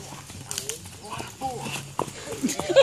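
A horse walks with steady clip-clopping hooves close by, irregular knocks over a low background hum, while people speak in Portuguese nearby.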